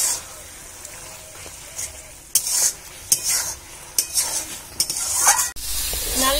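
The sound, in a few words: water lily stalks frying and being stirred in pan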